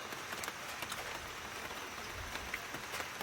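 Steady rain patters on a surface, a dense even hiss of drops with no break, fairly quiet throughout.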